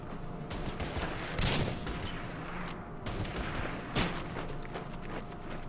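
Gunfire in the wartime strategy game Order of Battle: a crackling fusillade of shots with a couple of heavier bursts, set against a continuous battlefield din.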